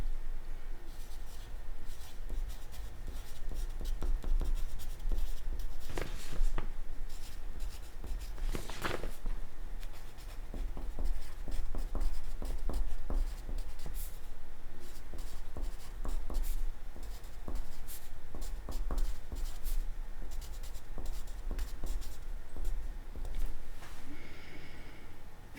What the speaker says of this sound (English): I'm going to write my closing sentence.